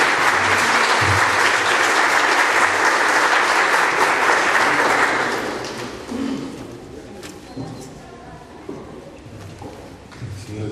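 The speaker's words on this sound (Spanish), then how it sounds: "Recibamos con un fuerte aplauso al doctor Manuel Dammert Eguaguirre" A seminar audience in Peru applauds to welcome a speaker at a debate on Camisea gas and national development; loud sustained clapping fades out after about five seconds, leaving quieter room noise and scattered sounds.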